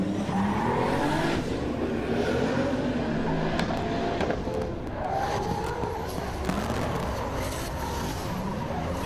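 BMW drift cars compete at a Pure Drift event, engines roaring continuously with long squealing tire slides and rising, falling revs, loud and close throughout, with faint commentary mixed beneath.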